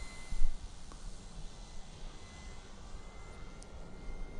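An E-flite Night Timber RC airplane flies overhead, its electric motor buzzing steadily and faintly at a distance over outdoor wind noise.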